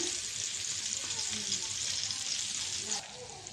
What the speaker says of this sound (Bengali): কড়াইটা বসাই দিলাম এই কড়াইটা রান্না করব